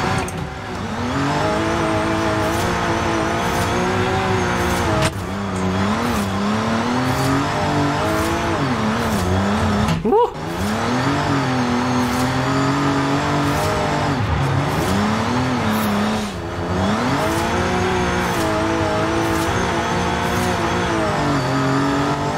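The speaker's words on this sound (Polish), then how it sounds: "silnik 4-litrowy V8 do tego auta" In-game BMW M4 engine sound from Forza Horizon 5 with a swapped 4.0-litre V8 and narrow drift tyres, revving loudly and continuously, its pitch sweeping up and down with brief dips at shifts and tyre noise throughout.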